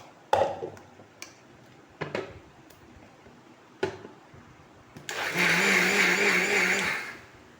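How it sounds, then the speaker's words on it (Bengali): A mixer grinder grinds soaked rice into a fine paste: a few short clicks and knocks lead into a loud, steady whirring motor drone lasting a couple of seconds before it stops. "এবার আমি চালটাকে মিক্সিতে গুঁড়িয়ে নেব, গ্রাইন্ডিং করে নেব।"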